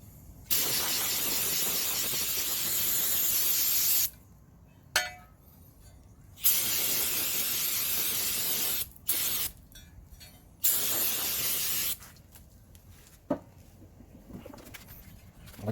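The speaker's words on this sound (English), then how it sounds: "to clean this up, I'm just going to use some brake cleaner." Brake cleaner sprays from an aerosol can onto trailer light parts in four long, loud hissing bursts, each several seconds, with short pauses between them and a few faint clinks.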